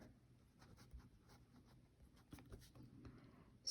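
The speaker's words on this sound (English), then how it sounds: "So that's exactly what I'm going to write here." A pen writes by hand on paper, close and quiet, with soft scratchy strokes and small taps in an irregular rhythm, heard alone with no talking.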